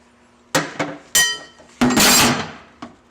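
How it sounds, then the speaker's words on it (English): A hammer strikes the sheet-metal transmission tunnel of a BMW during a handbrake install, landing about five sharp, ringing blows at an uneven pace, with a louder cluster of hits near the end. "we're going to smack that with a hammer to make room for our bolt"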